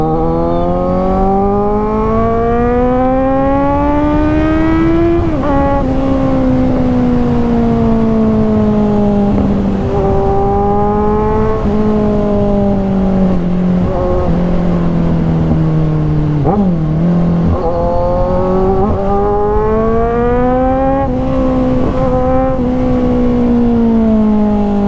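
A superbike accelerates hard along an empty road, its engine note climbing through several gear changes with brief dips between each pull, loud and continuous close to the rider.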